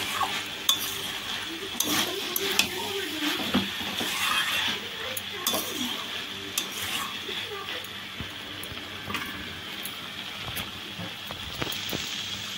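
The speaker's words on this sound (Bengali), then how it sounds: "এবার সয়াবিনগুলো দিয়ে দেবো, দিয়ে এটাকেও দিয়ে সুন্দরভাবে কষে নেবো। একদম জল দেবো না এতে।" Soya chunks stir-fried in a pan without water, soft sizzling under frequent clinks and scrapes of a utensil against the cookware, with a voice talking intermittently through it.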